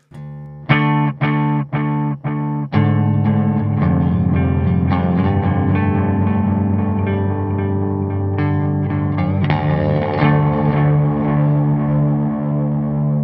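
Electric guitar through an EarthQuaker Devices envelope distortion pedal: a few clipped plucked notes, then harder strumming that saturates into a thick, sustained, fuzzy roar.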